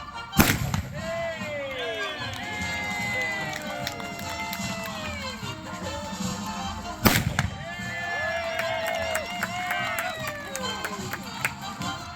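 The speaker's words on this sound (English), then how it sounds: "as she fires at these targets" A sharpshooter fires a gun at targets during an outdoor Buffalo Bill Wild West show at a historical village: two sharp, loud shots about seven seconds apart over steady crowd murmur and chirping sounds.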